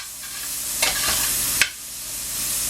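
Hot pan of Chicago cut steak juices deglazed with Worcestershire sauce, a steady sizzle with two sharp scraping strokes of a utensil along the pan bottom, close and alone.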